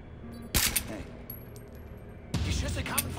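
Gunfire in the stealth shooter game Splinter Cell Blacklist: two sharp bursts of shots, the first short and the second longer and denser, over a low game ambience.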